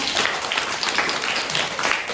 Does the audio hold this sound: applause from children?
yes